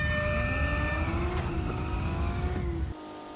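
A race car accelerates in the video game Car For Sale, engine pitch climbing steadily through gears with a continuous loud whine for about three seconds before cutting off abruptly.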